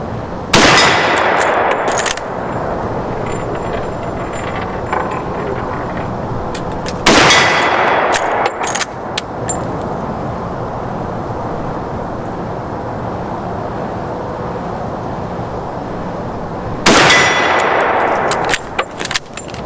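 A great-grandfather's Marlin rifle fired outdoors, three loud sharp reports spaced several seconds apart, each followed by metallic clatter and a long echoing tail, no talk.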